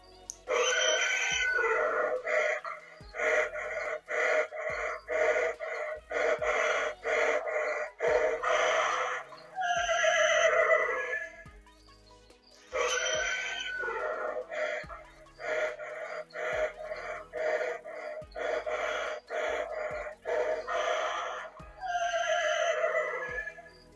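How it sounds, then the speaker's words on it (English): Animatronic skeleton horse decoration repeats electronic sounds twice: rhythmic heavy breathing pulses followed by a shrill whinnying neigh, loud and close, with clicks between sequences. "He makes some really neat horse noises, heavy breathing, and some neighing."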